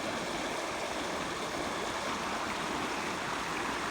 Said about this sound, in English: the creek is high